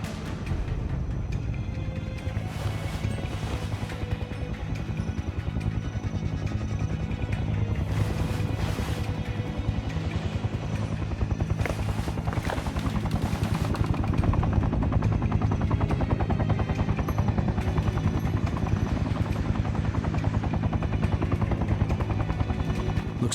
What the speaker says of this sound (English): Helo inbound. He's sweeping the area.